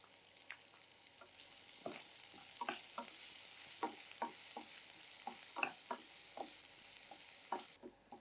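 Chopped onion and curry leaves sautéing in a pan for palak masala pongal, a steady soft sizzle broken by repeated brief stirring scrapes, close and moderately quiet with no talking.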